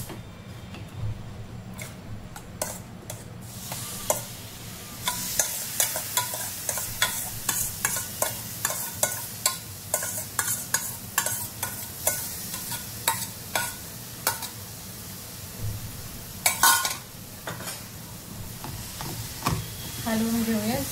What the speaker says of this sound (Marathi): आपल्या भाजलेल्या रव्यामध्ये आपल्याला काकडी टाकून घ्यायची।